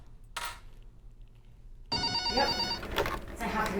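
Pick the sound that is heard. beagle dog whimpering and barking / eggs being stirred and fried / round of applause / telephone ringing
telephone ringing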